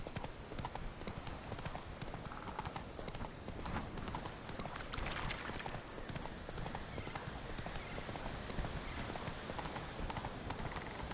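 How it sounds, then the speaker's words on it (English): Horse hooves gallop in The Witcher video game, a fast, steady clip-clop that runs loud and close for the whole stretch, with a faint whinny and no speech. "Run, Roach"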